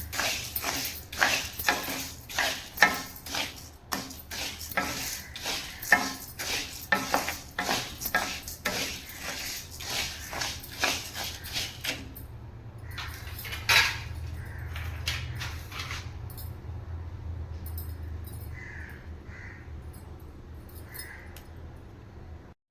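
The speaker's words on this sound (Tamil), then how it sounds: "இப்போ நம்ம அடுப்பத்தை வச்சு கடாய் சூடாக வச்சு நம்ம துவரம் பருப்பு வறுத்துக்கலாம்" Toor dal is stirred and roasted in a hot kadai, with repeated scraping strokes of a spoon against the metal pan in a quick irregular rhythm, close up, then settling into a quieter faint sizzle.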